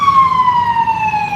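Wailing emergency siren on a New York street, a single falling tone sweeping downward for about a second and a half, fairly loud over low street rumble.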